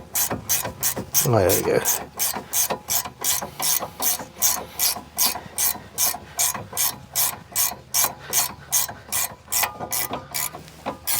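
A ratchet wrench clicks in a steady, rapid rhythm as it turns a loose nut that will not tighten during car engine work. The loud, close clicking runs throughout, with a brief spoken remark near the start.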